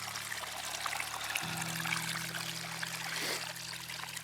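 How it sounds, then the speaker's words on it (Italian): A soft, steady trickle of water runs from an old public fountain outdoors, faint and continuous under a low hum of background noise, with no speech. "Andiamo a vedere la fontana."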